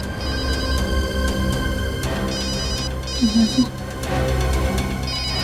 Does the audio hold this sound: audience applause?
no